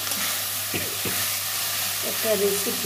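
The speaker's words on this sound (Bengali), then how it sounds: "এবার আমি শুকনো শুকনো করে ভেজে নামিয়ে নেব" Eggplant and radish greens frying with mustard paste sizzle steadily in a pan, with a couple of scraping stirs. A voice speaks briefly near the end.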